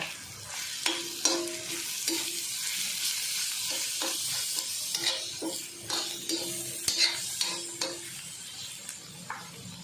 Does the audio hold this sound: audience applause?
no